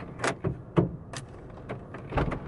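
A door latch being worked and unlocked, sounding as a few sharp clicks and knocks at close range with short mechanical rattles between them, and no talking.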